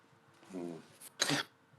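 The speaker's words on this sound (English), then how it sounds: "coughing because he's got burns." A man coughs twice, a short throaty cough followed by a harsher, louder one, close up and otherwise quiet.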